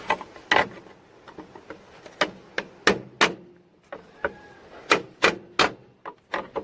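Rivets are hammered into a worn grain tank auger trough, giving sharp metallic blows in irregular bursts of one to three strikes with short pauses between them, close and loud, with no talking.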